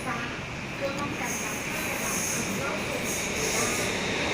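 Steady low rumble and rolling hum inside a moving BTS Skytrain Green Line carriage in Bangkok, with faint high whine and wheel noise throughout, no talking.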